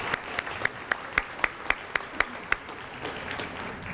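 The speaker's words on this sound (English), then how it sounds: "Give these folks a round of applause." A small group at a school steering committee meeting gives a short round of applause, about ten distinct claps in a steady rhythm, fairly faint and close, then fading after three seconds.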